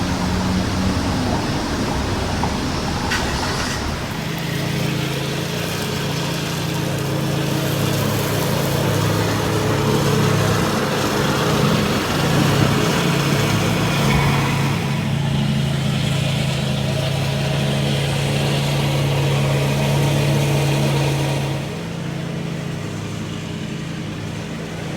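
A car engine drones steadily while driving on the old Route 66, a constant, loud hum with road rumble and a slight pitch shift partway through. No talk is heard.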